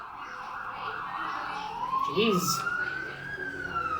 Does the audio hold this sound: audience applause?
no